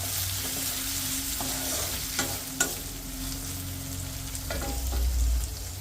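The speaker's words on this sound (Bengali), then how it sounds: "পেঁয়াজও দিতে হবে পুরোটা একটু ভালো ভাজা হোক একটু ভালো করে ভাজতে হবে" Steady sizzling of onions frying in a pan, with occasional scrapes and clinks of a spoon stirring, close and continuous with no talking.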